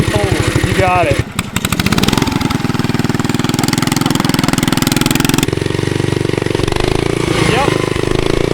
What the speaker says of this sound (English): Wow, that's a lot of engine right there, and that is a big spinny thing.